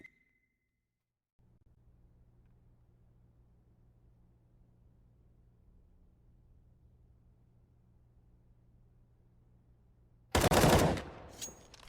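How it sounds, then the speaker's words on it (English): Counter-Strike: Global Offensive gunfire: after a long stretch of faint low hum, a sudden loud burst of rapid shots erupts near the end. "Shots from MASONIC to bite back a little bit here."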